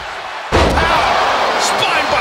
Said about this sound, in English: Oh, what a back body drop. Face first.